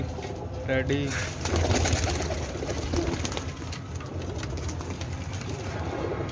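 Breeder pigeons of several breeds coo in their loft, with repeated soft, throaty coos close by over a busy background of fluttering and rustling, while someone talks at times.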